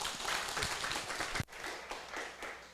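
Dense crowd applause thanks Professor Zhang Wenyan after his closing speech at a law academy beginners' class in Taiwan, steady clapping with a brief dip partway through before continuing.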